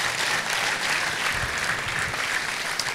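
A church congregation claps in praise, producing sustained, dense applause from many hands that is loud and fairly even throughout, with no speech over it.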